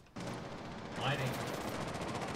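Gunfire in Rainbow Six Siege, a steady dense burst of shots running through most of the moment, with a brief tonal chirp partway in.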